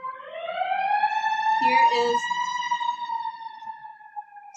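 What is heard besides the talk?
ambulance siren passing outside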